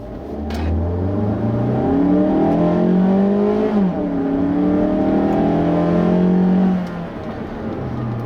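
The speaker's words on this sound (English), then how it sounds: "the main thing that I hear coming through is the engine when you really push it" A 2016 Mazda CX-3 compact crossover engine revs hard and climbs in pitch through several gear changes, loud and close, with a steady droning whine.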